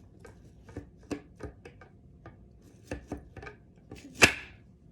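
A knife rocks back and forth through tomatoes on a cutting board, giving a run of soft, separate taps at an uneven pace, close and quiet, ending in one sharper knock.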